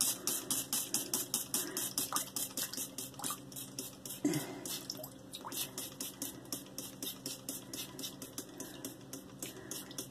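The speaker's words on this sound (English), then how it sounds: "I'm going to be using some distilled water to wet my brush." Distilled water drips and splashes in a quick, regular rhythm while a shaving brush is wetted, with a brief louder splash partway through, close up and without talk.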